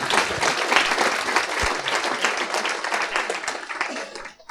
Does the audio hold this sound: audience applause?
yes